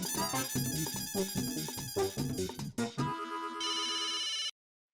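A telephone rings with a melodic ringtone, a bright repeating tune followed by a steady sustained electronic tone that cuts off abruptly into silence.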